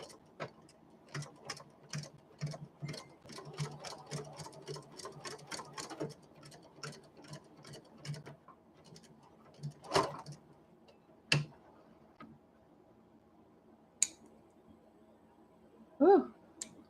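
A sewing machine that needs cleaning and lubrication stitches in quick, regular ticking bursts for several seconds, then stops, leaving a few isolated clicks and thumps, close and fairly quiet.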